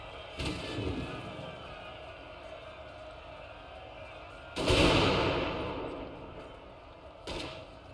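Musket volleys in a Total War Napoleon mod battle of the 1879 Zulu War, with a loud sharp burst fading into a long rumbling tail and lighter shots before and after, set against a steady battlefield bed.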